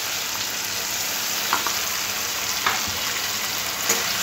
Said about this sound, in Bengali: আদা জিরে বাটাটা ভালোভাবে টমেটোর সাথে মিশিয়ে নেব।